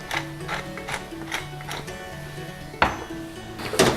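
A utensil stirs egg and bacon in a pan, giving a series of sharp scraping clicks in an irregular rhythm, close and fairly loud, with a few stronger knocks near the end.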